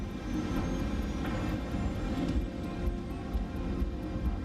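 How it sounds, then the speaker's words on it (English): Boeing 747 jet engines roar steadily as the airliner accelerates down the runway for takeoff, a loud, continuous broadband rumble and whine with no speech. "The 747 accelerates towards takeoff speed, 290 kilometers an hour."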